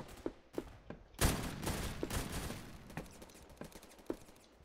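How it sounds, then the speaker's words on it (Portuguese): Rapid video game gunfire from Roblox Phantom Forces crackles in bursts, a dense volley early on followed by scattered single shots, fairly close and sharp. "Tá rolando tiroteio aqui."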